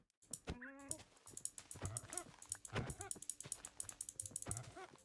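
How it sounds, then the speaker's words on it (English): Pigs in the Minecraft video game grunt and squeal in a rapid series of short, close calls. The sounds are uneven and overlap a little, over faint game background noise. "Did they update the sounds that pigs make?"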